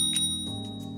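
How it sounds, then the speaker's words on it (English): The bell on an S3 bike rings out in a bright, clear metallic tone with quick repeated strikes, close and loud, ringing for about a second. "the S3 is fitted with a nice loud bell so people can hear you coming."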